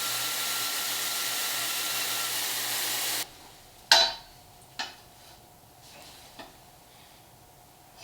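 A power cutting tool trims the ear off a small-block motor mount: a loud, steady whir for about three seconds, then it stops abruptly and is followed by a few sharp metallic knocks and taps.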